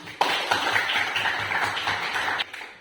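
A classroom of vocational geology and mining students claps together in a steady, dense patter that continues for about two seconds and then stops.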